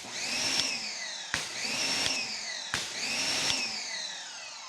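Dual pressure washers with an Active 2.0 high-flow 4.2 GPM setup run in three back-to-back surges, each opening with a sharp pop followed by a loud, close whining motor drone that dips in pitch.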